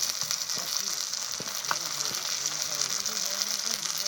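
Ground spices (chilli, Kashmiri chilli, cumin, coriander and turmeric) frying with a little water in a pan for potol chingri, giving a dense, constant sizzle with soft intermittent scraping of a stirring spoon.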